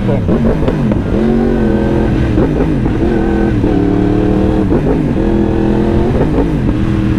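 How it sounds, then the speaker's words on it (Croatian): A motorcycle engine rumbles and revs at low rpm, throttle blipped repeatedly with a deep, steady growl, close and loud throughout. "Baš je gušt ovako nabijat gas e"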